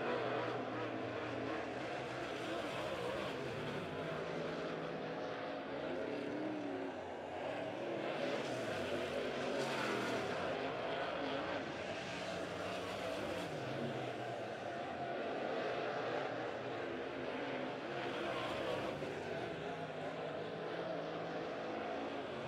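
Race cars circle Lebanon Midway Speedway during an A-feature, a continuous engine drone from a distance with swells as cars pass, under an announcer talking throughout.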